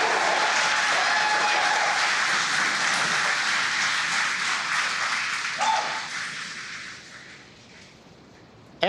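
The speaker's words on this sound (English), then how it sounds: "as you can hear the cheering in the background," A crowd cheers and applauds loudly in a SpaceX mission control room at first-stage separation during the GPS III Vehicle 5 launch, a sustained roar that fades gradually toward the end.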